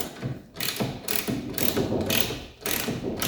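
A ratchet wrench tightens rear suspension bolts on a Porsche 911T, giving repeated bursts of quick metallic clicking in close, loud strokes with brief pauses between them.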